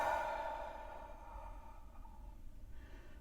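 A slow, steady exhale of breath during a standing posture exercise, soft and breathy, fading gradually over a few seconds with no talking.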